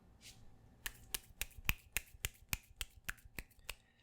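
A series of about a dozen crisp finger snaps in a steady, fairly quick rhythm, close and clear over a faint background hum.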